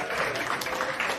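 A podcast audience gives a short, close burst of applause and cheering that fades after about a second.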